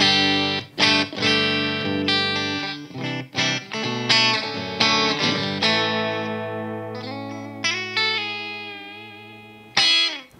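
An affordable Strat-copy electric guitar plays a run of sustained chords and single notes with effects and slight distortion, loud and close with no talk.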